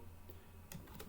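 Brief quiet clicks of typing on a computer keyboard, a few scattered keystrokes over a low background hum; no voices.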